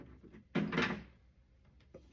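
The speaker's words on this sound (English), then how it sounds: "No issues closing the door," A toy ramen van's small plastic door opening and shutting: one brief clattering snap up close, then a couple of faint light clicks trailing off.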